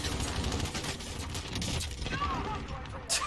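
Dual pistols firing in a video game, heard as rapid, dense bursts of shots packed closely together throughout, with talk over the gunfire and a sharp crack near the end.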